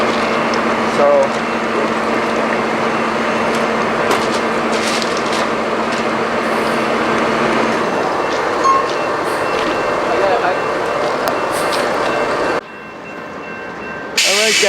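A stopped train sits on its tracks, rumbling loudly and steadily, with creaks and voices mixed in. The noise drops off sharply near the end.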